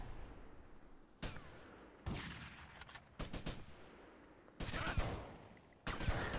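Gunfire in Grand Theft Auto: Vice City, with sharp bursts of rapid shots and single cracks at irregular intervals against a quiet background, fairly faint overall.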